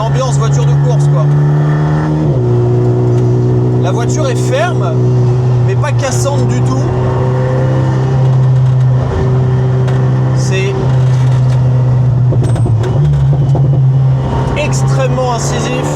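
A loud, constant exhaust drone from an Alpine A110 Schirmer GT fills the cabin while it is driven briskly, shifting pitch between gears as someone speaks over it.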